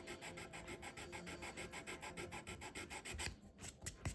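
Steady close rasping of a blade or file scraping a bassoon reed blank from the butt to the bevel line, a continuous even scrape with a rhythmic pulse, thinning into a few separate strokes near the end.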